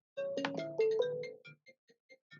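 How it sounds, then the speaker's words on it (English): An incoming call sets off a mobile phone's melodic ringtone: a bright chiming phrase of tones, then a few softer repeated notes trailing off, with no voices. "incoming call on my phone."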